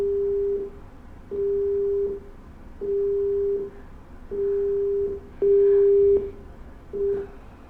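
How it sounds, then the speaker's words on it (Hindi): Telephone busy tone after the caller has hung up on an astrology helpline call: six evenly spaced steady beeps, each under a second long, clear and alone on the line with faint background hiss. "शायद वो कट गए हैं फ़ोन से, लाइन से ही।"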